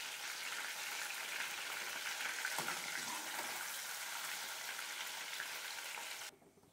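Stingray fish fries in hot oil for a spicy Bengali masala fry, a dense, steady hiss and crackle of sizzling that continues evenly before cutting off abruptly at the end.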